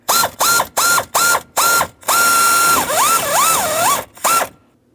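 Cordless power driver snugging blower motor resistor screws on a 2007-2014 Ford Edge, a loud close series of short whirring bursts, then a longer run that bogs and wavers as the screw tightens, and one final short burst.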